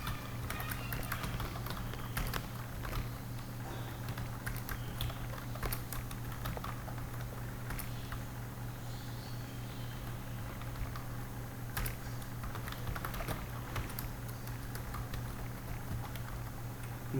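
Keys tapped on a computer keyboard while entering names into a list in MS Word, a quiet, steady run of light clicks under a constant low hum, with no talk.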